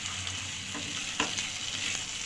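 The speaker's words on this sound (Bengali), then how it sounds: "দিয়ে ভালোভাবে মশলার সঙ্গে মিশিয়ে নিচ্ছি" Tomato sauce being stirred into masala frying in oil in a pan for chicken roast gravy: a steady, close sizzle with a few soft scraping strokes of the spoon, no voices.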